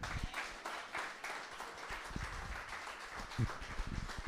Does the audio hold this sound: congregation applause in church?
yes